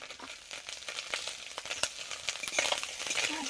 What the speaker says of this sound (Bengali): আজকে ইলিশ মাছটা একটু হালকা ভেজে নেব একটু।